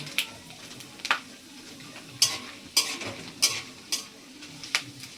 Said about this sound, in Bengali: আলুর পাঁপড় ওর জন্যে ভাজছি